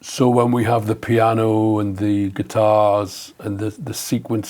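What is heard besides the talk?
None of the usual background noises is heard.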